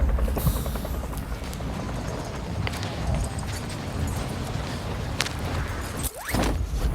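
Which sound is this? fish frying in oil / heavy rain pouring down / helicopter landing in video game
helicopter landing in video game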